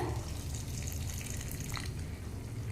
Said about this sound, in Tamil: இப்போ இதை அரைக்கிறதுக்கு ஒரு அரை டம்ளர் தண்ணி சேர்த்திக்கலாங்க